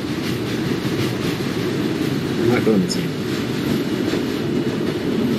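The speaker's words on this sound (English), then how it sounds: "I hear the train simulator. Just like clanking metal." Simulated subway train running on rails in the OpenBVE train simulator, an R42 car on a New York line, with continuous loud rumbling and rhythmic clanking under a voice speaking.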